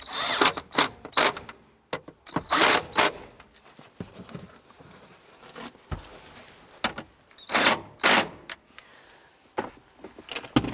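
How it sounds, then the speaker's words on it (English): A ratchet tightens the bracket bolts on a 2006–2012 Honda Civic during fuel pump replacement, giving repeated close clicking bursts separated by short pauses. "Go ahead and tighten those down."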